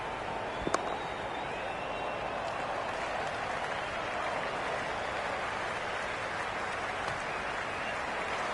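Steady stadium crowd noise and applause in the Cricket 26 video game during a New Zealand versus West Indies match, a constant broad roar throughout with a couple of faint sharp clicks early on.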